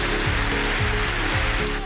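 Heavy rain falling in Shakargarh and Gujranwala, Pakistan, a dense, even hiss that runs unbroken beneath a repeating musical backing.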